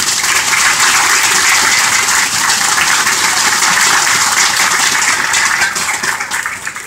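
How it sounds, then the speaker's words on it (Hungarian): Loud, sustained applause from a large crowd at a League of Legends esports final, dense clapping that holds steady throughout and begins to thin slightly near the end. "egy nagy tapsot szeretnék kérni, Hayan Máté!"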